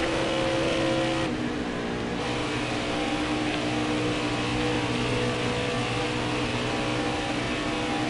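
Racing trucks roar around the oval at Texas in the NASCAR Heat 4 truck series game, a steady, loud engine drone with continuous revving across the whole stretch and no talk.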